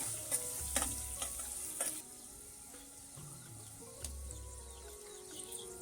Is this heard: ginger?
yes